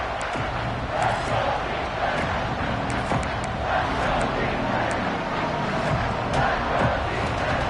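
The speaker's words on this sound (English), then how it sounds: "Guns up, and so is the noise. The crowd electric" A loud, dense stadium crowd roars continuously in the College Football 26 video game, a broad wash of cheering and babble with indistinct voices mixed in.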